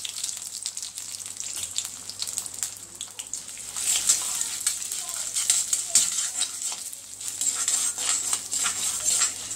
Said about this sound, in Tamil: இப்போ நம்ம இந்த உளுத்தம் பருப்பை பொன் நிறமாக வந்து எடுத்துக்கணும்.